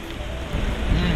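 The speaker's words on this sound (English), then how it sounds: "All right, Spencer, we're standing in the rain." Rain falling outdoors during a typhoon in Hong Kong, a dense hiss of heavy rain and wind buffeting close to the microphone, steady and loud throughout.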